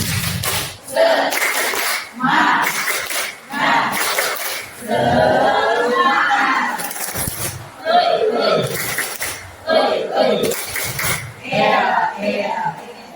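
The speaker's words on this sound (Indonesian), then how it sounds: "Tepuk semangat" Teachers gathered at a school dissemination session perform the 'tepuk semangat' rhythmic clapping chant, with bursts of group claps and voices separated by short gaps in a lively, repeating pattern.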